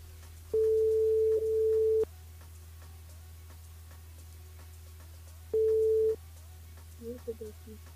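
A phone line gives two long electronic tones with a pause between them, heard while a live radio host rings a listener's mobile, followed by faint muffled sounds.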